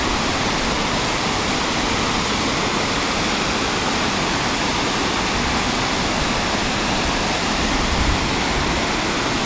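Water pours down a steep drop beside Lake Taupō, a loud, steady broadband rush that fills the whole clip with no letup and no voices.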